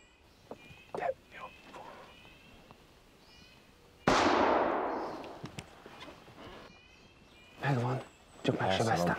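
A single sharp gunshot rings out during a hunt in a forest, loud and sudden with a decaying echo, preceded by quiet rustling and followed by brief voices and birdlike chirps.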